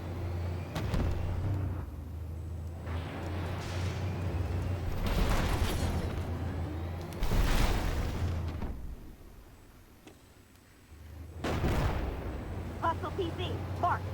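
Incoming artillery rounds exploding in the tank game Armored Warfare, with several heavy broadband blasts spaced seconds apart over a steady engine rumble.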